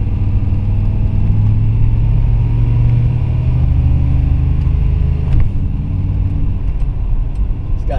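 Pontiac Phoenix car driving on a wet road, a steady loud engine drone and rumble from inside the car, with a brief shift-like change partway through.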